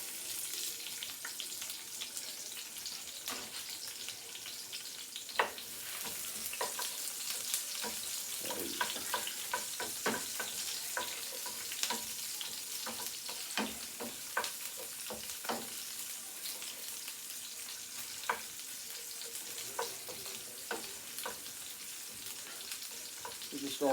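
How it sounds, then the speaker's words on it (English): Onions frying in leftover pork chop grease in a pan, a continuous soft crackling sizzle with scattered pops and occasional stirring clicks, low in level and steady throughout. "We're just gonna fry these down so they get kind of soft and a little brown."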